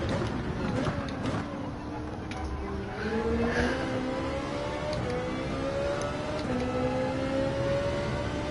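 Race car engine in Gran Turismo 7 at the Sardegna track, its pitch climbing and dropping through gear changes as the car brakes and accelerates through a turn, steady and close under a talking voice.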